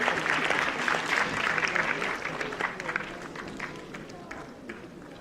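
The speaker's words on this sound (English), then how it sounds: "Can we hear more clappings from all across this auditorium?" Audience applause fills a conference auditorium at a health sciences event, a steady wash of many hands clapping that stays fairly loud and gradually eases, with voices mixed in.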